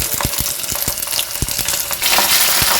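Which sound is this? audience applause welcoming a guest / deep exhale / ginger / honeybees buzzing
ginger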